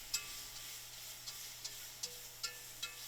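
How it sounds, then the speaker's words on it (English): A soft, steady sizzle of roux cooking in a pot for crawfish étouffée, with faint periodic clicks of a spoon stirring. "Let it sizzle."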